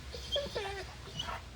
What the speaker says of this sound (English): It's okay. It's just a puppy dog.